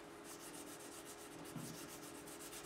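Steady, soft rubbing as 1200 grit sandpaper polishes a scalloped guitar neck on a Warmoth custom Strat build, with a continuous even hiss of close strokes and no talk.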